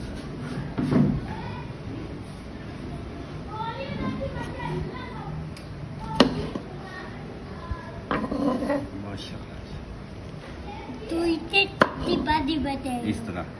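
Food cut into pieces on a board for homemade achar pickle, giving several sharp knife chops and clunks that are scattered and close, mixed with kitchen handling noise and occasional background voices.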